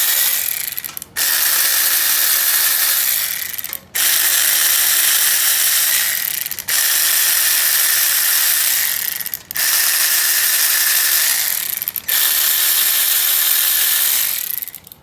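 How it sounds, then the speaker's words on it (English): Power ratchet backing out 10mm bolts from the case of a Predator 212 engine, five long, loud, steady whirring runs of about two seconds each, close up, with short gaps between. "we're gonna be removing all these 10mm bolts"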